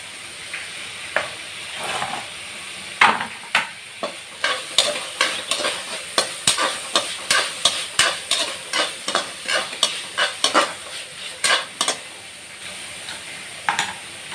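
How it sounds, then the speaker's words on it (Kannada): Green chilli and tomato fry in a pan, sizzling loudly while a spoon stirs in a quick run of rhythmic scrapes, around twenty strokes that come close together and then slow off toward the end. "ಒಂದು ಹಸಿಮೆಣಸು ಹಾಕಿ ಚೆನ್ನಾಗಿ ಫ್ರೈ ಮಾಡ್ಕೊಳ್ಬೇಕು"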